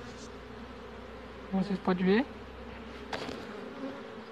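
Honeybees buzzing at a hive during queen marking and wing clipping, a steady soft hum throughout with a person talking over it.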